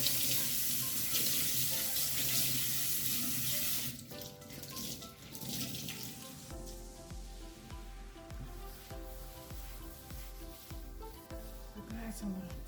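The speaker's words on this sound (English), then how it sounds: "So let me wash my hands so I can clean up this area." Tap water runs steadily into a kitchen sink as hands are washed, loud at first and then quieter beneath clinking and other kitchen sounds.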